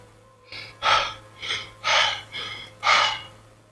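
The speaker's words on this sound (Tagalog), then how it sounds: "Hinabol nito ang paghinga sa malakas na puwersang tumama sa kanya." A man, just struck hard in a storeroom fight, draws six sharp, heavy breaths in a steady rhythm, each a loud rasping gasp up close with short silences between.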